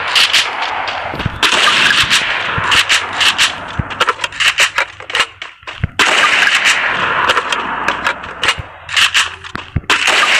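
Rapid bursts of video game gunfire crack in quick succession, loud and close, with short pauses between volleys and no talking.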